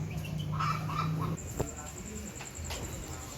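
Chicks clucking and peeping while playing and foraging make soft, faint calls close by, followed by a thin, steady high-pitched tone that lingers to the end.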